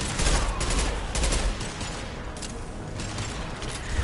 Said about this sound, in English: Firing an impact gun.